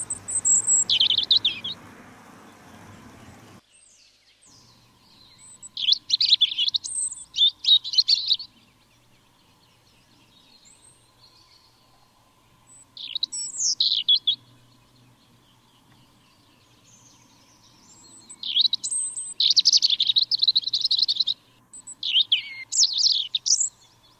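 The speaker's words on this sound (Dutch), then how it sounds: "Dan verschijnt opnieuw ons roodborstje." A European robin sings in winter near a garden feeder stocked with peanut butter. Bright, high warbling phrases come in separate bursts with quiet gaps between them, close and clear, after a few seconds of low background noise at the start.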